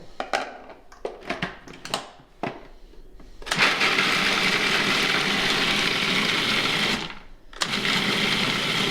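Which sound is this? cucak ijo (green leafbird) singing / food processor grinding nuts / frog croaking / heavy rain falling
food processor grinding nuts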